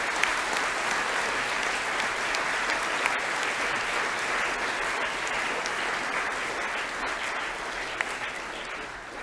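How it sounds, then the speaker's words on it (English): Steady applause from a large school assembly audience, a dense wash of clapping that holds at an even level throughout with no talking on top. "So I'd ask everyone to give him another round of applause."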